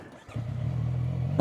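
A 675NK motorcycle engine starting after a brief click, then settling into a steady low idle rumble close by, with a louder burst at the end and no talking.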